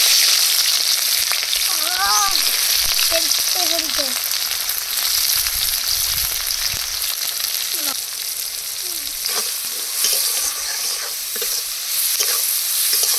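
Chopped onion fries in oil in a kadai, with loud continuous sizzling, scraping stirs and a few brief distant bird-like chirps.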